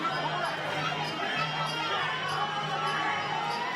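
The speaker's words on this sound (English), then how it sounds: "Huge support crowd for Roy Wills." A fight crowd chatters and cheers in a dense, steady wash of many voices at a Domination 22 semi-final bout, heard from a distance with no single voice standing out.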